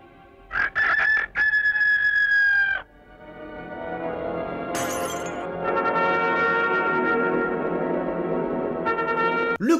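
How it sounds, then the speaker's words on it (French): A rooster crows loudly twice up close in a Soviet science-fiction cartoon, a long strained call after a short one, then a sustained bright tone that fades into a drawn-out crow. "une chauve-souris transformée en coq chantant à sa fenêtre"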